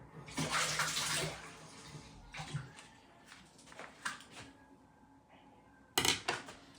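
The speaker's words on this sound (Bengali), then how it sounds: "তার আগে আমি পেঁপেটা ধুয়ে নিই একটু" A papaya being washed under a running tap, with splashing water loudest at the start, then intermittent softer splashes and handling noises, and a final burst of water near the end.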